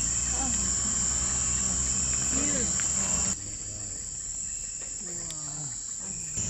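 Insects chirp and buzz steadily around Palenque, Mexico, as a constant high-pitched drone, with faint bird calls and low background rumble beneath.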